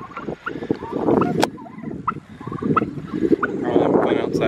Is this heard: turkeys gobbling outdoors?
yes